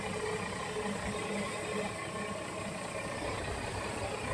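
A car engine idles steadily after being started during a radiator and temperature gauge check in Atimonan, Quezon, Philippines, a continuous low rumble running evenly throughout at moderate level with no talking.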